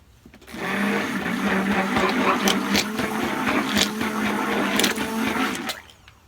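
A stick blender whirs steadily in cold process soap batter, a close, loud motor hum with a buzzing mechanical edge that starts abruptly, holds for about five seconds and then cuts off.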